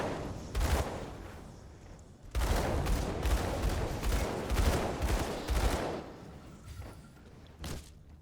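A Gunslinger character fires at enemies in a video game, with clustered bursts of rapid shots and thuds in several loud volleys separated by brief lulls.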